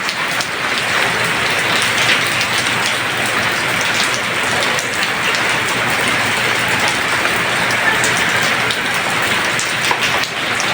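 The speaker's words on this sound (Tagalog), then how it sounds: "Karating na yung ulan." Heavy rain pouring steadily and loudly on surfaces in Dipolog, a dense, unbroken roar with no pauses and no voices.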